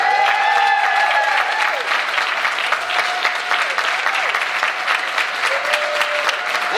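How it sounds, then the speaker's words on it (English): A theater audience gives loud, sustained applause after a performer is introduced, dense clapping from many hands with a few scattered voices mixed in throughout. "Give him a round of applause"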